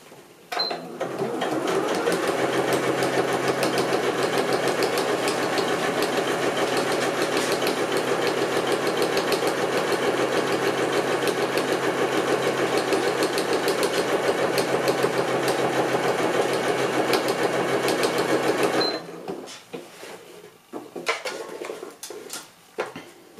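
A sewing machine stitches along the edge of a fabric coin purse in one long steady run of rapid mechanical whirring, loud and close, then stops abruptly near the end, leaving lighter handling noise.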